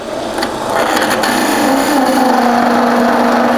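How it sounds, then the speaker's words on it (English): A wood lathe runs steadily while turning timber, giving a continuous motor whine with a faint rising hum and occasional light tool contact, close and fairly loud. "Turn the lathe on."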